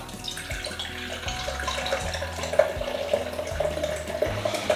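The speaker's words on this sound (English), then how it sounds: "So we can be getting that ready while the machine brews." A Breville iced coffee maker brews with a steady watery gurgle and trickle, a continuous close running-liquid sound with soft periodic low thumps of the machine throughout.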